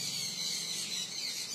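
Continuous scratchy squawking from conure parrots eating at close range, a dense unbroken rasp lasting a second and a half, with no voices.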